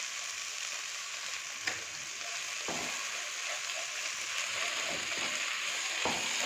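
Medium tomatoes with Kashmiri chili powder sizzle steadily over low flame in a pan, a continuous close frying hiss broken by a few light scrapes and taps of a stirring spoon.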